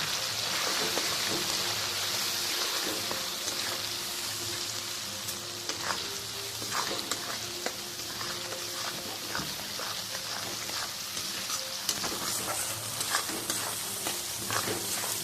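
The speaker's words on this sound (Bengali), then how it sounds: "এটা আমি ভালো করে কষিয়ে নেব" Ground coriander, cumin and chili powder sizzle and fry in a pan, with crackling spatters and occasional stirring scrapes heard up close throughout, without voices.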